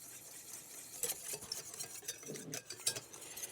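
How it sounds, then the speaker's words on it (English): A whisk stirring icing sugar into chocolate frosting in a bowl, light irregular scraping and tapping clicks, close and quiet, with no speech. "And we'll whisk that in."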